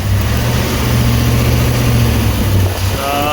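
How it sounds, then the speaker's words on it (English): A Ram Hemi engine runs in eco mode with a steady low rumble and an irregular ticking lifter noise close by, the drone holding constant before a slight rise at the end. "tell me if this is a lifter noise. And it's not your typical lifter noise. This is only when the eco mode comes on."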